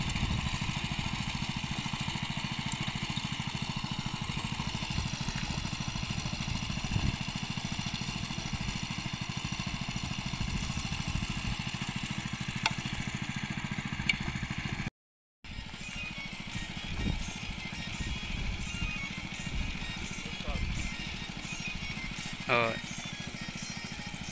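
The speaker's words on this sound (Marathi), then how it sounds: "तुम्ही पाहताय ही आमची नांगरणी सध्या ही मशीन सर्वांकडे आमच्या कोकणामध्ये आहे" A power tiller's small engine chugs steadily throughout while ploughing a field in Ratnagiri, Konkan, loud and close, with a brief cutout midway; a person talks over the mechanical drone.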